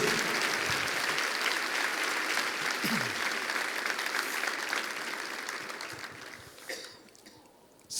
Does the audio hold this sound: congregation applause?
yes